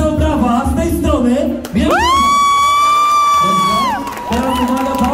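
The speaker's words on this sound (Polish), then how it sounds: "Proszę o brawa z tej strony." A crowd at a Polish wedding party game erupts in loud cheering, with a long rising whoop held over noisy shouting and clapping, before the din settles back into lively chatter.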